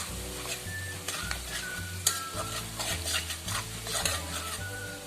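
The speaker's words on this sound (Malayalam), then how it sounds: "നല്ലോണം ഒന്ന് മിക്സ് ചെയ്തെടുക്കാം" Kashmiri chili powder sizzles in hot oil in a pan while being stirred for a dates pickle, close crackling with rhythmic scraping strokes and utensil clinks.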